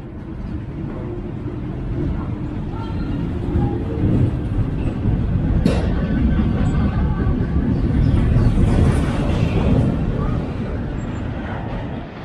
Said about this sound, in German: Aber da kommt schon der nächste Zug